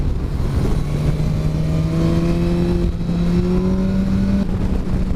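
A BMW S1000XR motorcycle accelerates hard on an open road, its engine note climbing steadily in pitch through the revs, loud and close under constant wind rush, with a brief dip as it shifts gear before pulling again.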